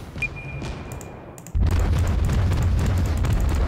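Heavy naval guns boom out from a fast-firing Russian premium cruiser in World of Warships, a loud sustained barrage of overlapping blasts that starts abruptly after a quieter stretch and keeps rumbling steadily to the end.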